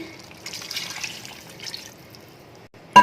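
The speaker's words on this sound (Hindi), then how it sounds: "अब इसको 2 गिलास के करीब हम इसके अंदर पानी ऐड कर देते हैं" About two glasses of water are poured into mutton karahi in a cooking pot, a soft splashing trickle in the first half that fades to quiet drips before a short bump at the end.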